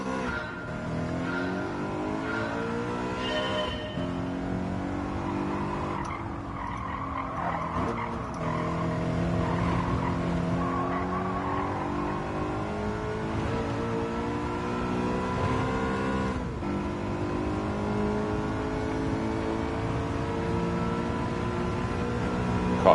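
A BMW M3 race car in Gran Turismo 7 at Autopolis drones loudly and continuously, engine pitch falling under hard braking and rising again through the gears, with tire squeal mixed in and no talk.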